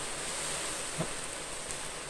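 Heavy rain driven by strong wind in the Mini World video game, a steady, dense hiss with no break, fairly faint and alone.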